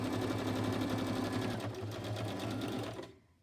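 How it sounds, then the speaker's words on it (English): A sewing machine backstitching through a notebook made from book pages, a loud, close, rapid mechanical stitching rhythm that runs steadily and then stops abruptly. "And I backstitched it, I just don't want it to come undone."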